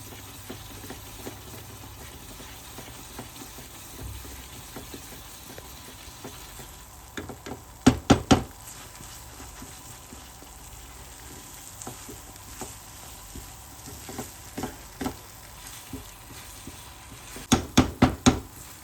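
A spoon stirs a thick barfi mixture in a pan over steady, sizzling heat, scraping along the pan with two short bursts of sharp clicks and knocks, one near the middle and one near the end, close and moderately loud.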